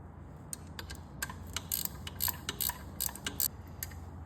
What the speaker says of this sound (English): Now we'll nip up the flange nut.